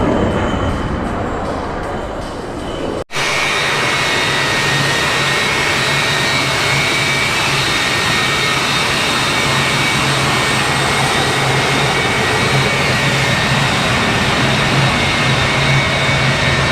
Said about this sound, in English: For the United States Navy, the F-35.